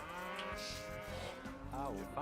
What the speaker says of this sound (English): Oh, there's the cows.